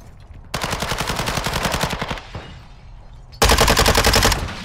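Rapid automatic gunfire from a penthouse gunfight in a video game, two loud sustained bursts separated by a brief quieter gap, heard alone with no talk.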